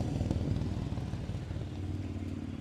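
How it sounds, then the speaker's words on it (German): A brand-new Yamaha MT-10 motorcycle engine runs at a steady, close, mid-pitched rumble with light mechanical clatter, heard on its own for a couple of seconds. "Yamaha MT-10, brandneues Motorrad."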